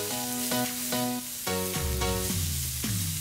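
Onion, garlic and chili sizzle in a hot wok, a steady frying hiss running under tuneful background music.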